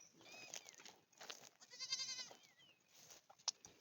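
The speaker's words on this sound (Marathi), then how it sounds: "ते बघ, ते बकरी आली." A goat on a farm, bleating several times nearby, with a longer wavering bleat in the middle and short calls around it, fairly quiet with little else audible.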